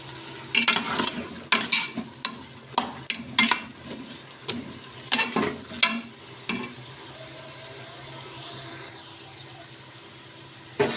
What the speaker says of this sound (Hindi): ये फ्राई हो रहे हैं चने